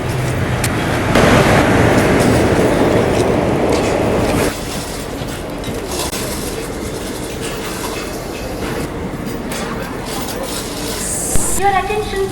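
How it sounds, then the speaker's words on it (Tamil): A superfast express train running from Chennai to Alleppey arrives at a station, its heavy rumble and rushing noise loud at first and then settling into a steadier rolling clatter, with a short chime or signal sound near the end. "சென்னையில இருந்து அலப்பே போற சூப்பர் ஃபாஸ்ட் எக்ஸ்பிரஸ் வருதுங்க"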